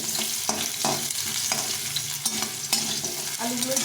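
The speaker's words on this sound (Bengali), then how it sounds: "আমি আলুটাকে ভেজে নেব আলুটাকে একটু লাল লাল করে ভেজে নিতে হবে" Cubed potatoes fry in hot oil with a bay leaf for sago khichdi, a steady close sizzle broken by repeated scraping stirs at an even pace.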